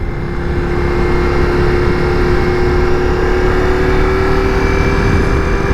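A 2024 Ducati Diavel V4 motorcycle cruises under 7,000 RPM, its engine a loud, steady drone with a slowly rising tone, heard close up over continuous wind rush and no speech.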